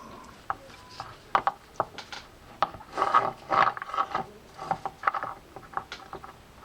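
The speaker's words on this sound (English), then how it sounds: "Now we can go install the axle shaft, lightly greased." Small metal parts of a Penn Fierce 4000 spinning fishing reel clicking, rubbing and ratcheting as a lightly greased axle shaft is fitted; faint, close, irregular taps and scrapes with brief quiet gaps.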